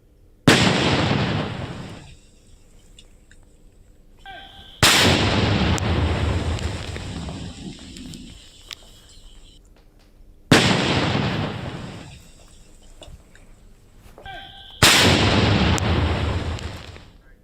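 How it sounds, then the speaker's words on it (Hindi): Four loud, sharp blasts from a tiffin bomb detonated by security forces during a Naxal bomb disposal, each a sudden boom with a rumbling tail that dies away over several seconds, spaced a few seconds apart in open surroundings. "आप भी सुनिए न्यूज़ 18 मध्य प्रदेश छत्तीसगढ़ पर ये एक्सक्लूसिव बम धमाके की आवाज"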